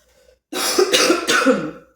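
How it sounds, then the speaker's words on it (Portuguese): A woman coughing close to the microphone, a short burst of two or three harsh coughs that starts after a moment of near silence. "eu vou tossir de vez em quando"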